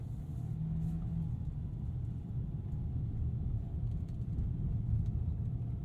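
A Ford Maverick Tremor pickup pulls away, its engine giving a steady, muffled low rumble heard from inside the cab, with no talking.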